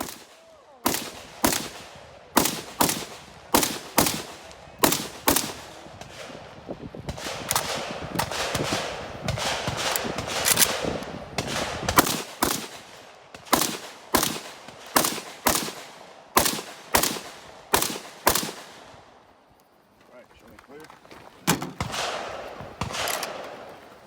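An AK rifle fires at an AK Masters competition shoot: sharp single shots and rapid strings of loud cracks with a short pause between groups, heard outdoors at close range without talk.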